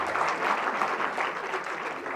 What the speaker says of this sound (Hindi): एक बार जोरदार तालियां आप सभी के लिए